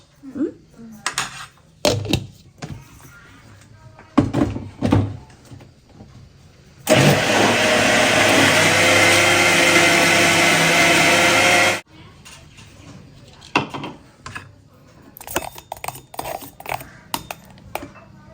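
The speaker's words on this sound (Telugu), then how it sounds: "కొంచెం మనం మిక్సీ పట్టుకున్నామా." A kitchen mixie grinds peanut chutney in one loud, even five-second burst, with scattered clinks and clatter of utensils and dishes before and after.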